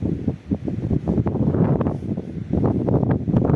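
Steady gusty wind on a mountain top in the Chornohora range buffeting the microphone, a continuous rough roar that swells and eases, with no voices.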